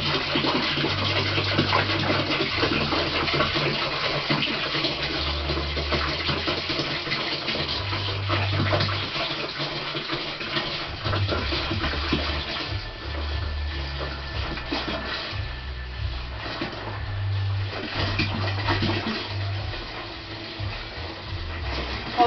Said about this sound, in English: So I'll add one 10 litre bottle of spring water.